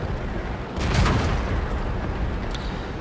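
A tank cannon fires in World of Tanks, a single loud boom near one second that swells into a broad rumbling blast and stays heavy under steady battle noise to the end.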